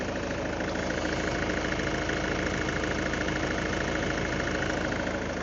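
A Ford Kuga petrol engine, a Citroen-Peugeot unit, idles steadily and loudly up close after injector seal work, with a constant dense mechanical hum and faint knocking and no change throughout.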